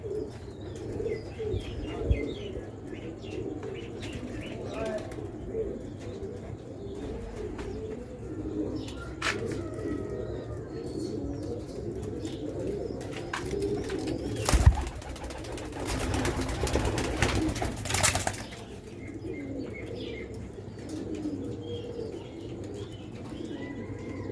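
Pigeons on a Sialkot rooftop cooing repeatedly under steady outdoor ambience, with scattered chirps and a brief burst of wing flapping midway.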